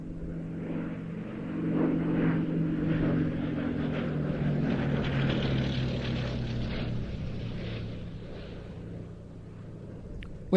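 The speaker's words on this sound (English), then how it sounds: "We have had treat after treat after treat of World War II era aircraft today." A World War II era propeller aircraft built in 1939 flies at an airshow, a steady droning engine hum that swells and holds before fading slightly toward the end.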